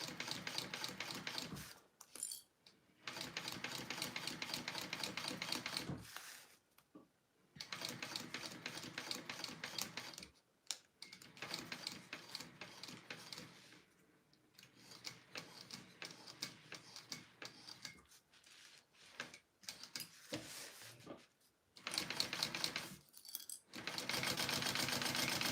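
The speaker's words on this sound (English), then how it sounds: "I sewed along that stitching" A sewing machine stitches slowly along the curve of a pocket, running in bursts of rapid mechanical clatter broken by short pauses, close and fairly quiet.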